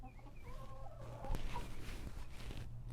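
Chickens clucking inside a backyard coop, several birds calling in short broken phrases at close range over a steady low hum, with a slightly louder burst midway.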